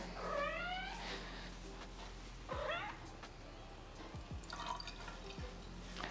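A cat meows in short rising chirps several times beside a dripping household faucet, with soft drips landing between the calls and a low steady hum underneath.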